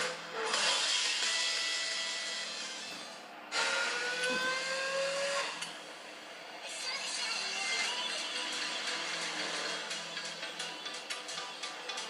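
Racing car engines in the Real Racing 3 game on a Samsung Galaxy Tab S, rising and falling high engine whines with pitch sweeps as gears shift, fairly loud and continuous.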